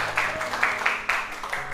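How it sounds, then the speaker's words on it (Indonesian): A classroom of students claps for group 3 after its presentation in a teacher-training lesson: a short burst of loud, uneven applause under a sustained background tone, lasting under two seconds. "berikan tepuk tangan dulu untuk kelompok"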